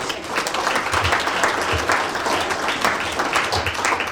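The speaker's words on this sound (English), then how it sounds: "And we give ourselves a round of applause." Steady applause from a banquet audience at a boxing awards dinner, a dense wash of many hands clapping continuously at moderate loudness for the full length.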